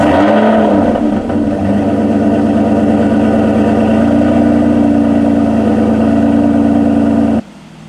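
An Aston Martin Vanquish S engine running loud and close in a steady, even drone with a slight rise early on, then cutting off abruptly near the end.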